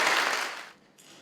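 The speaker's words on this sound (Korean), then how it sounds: "우리 이혁준 교수님 박수로 한번 환영하겠습니다" Brief burst of applause from a conference audience welcoming a professor, a dense clapping wash that fades quickly into quiet, with a faint voice resuming at the end.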